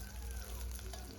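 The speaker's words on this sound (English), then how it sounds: "Add some chopped onions." Chopped onions sizzling and frying in hot oil in a pan, a steady faint crackle with no pauses.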